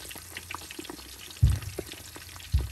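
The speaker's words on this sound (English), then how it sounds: "We are frying the meat." Meat frying in a pot for a stew with a soft, steady sizzle, broken by a couple of louder stirring thumps or clatters, all fairly quiet and close with no talking.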